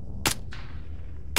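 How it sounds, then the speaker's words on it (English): Two sharp gunshots in Arma 3, played on an Invade & Annex server, a second apart, loud and close over a low rumbling background, with a fainter crack between them. "so he's shooting at them"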